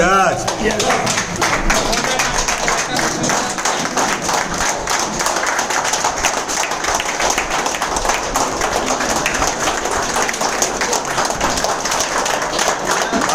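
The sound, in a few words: audience applause welcoming a leader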